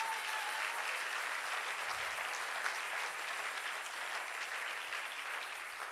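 A church congregation bursts into sustained applause for the Lord, a dense, even wash of many hands clapping that holds steady throughout with no pauses.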